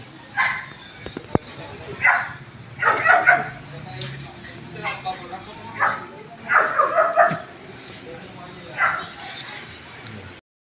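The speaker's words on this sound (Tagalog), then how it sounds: "ibang aso to eh. Kaya yung tahol?" Several sharp dog barks and yips come in irregular bursts at mid distance, with a low hum underneath and a brief crackle early on.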